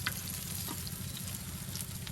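Fritters such as beguni fry in hot oil in a village kitchen, giving a continuous soft crackling sizzle with small pops, close and steady, with no voices.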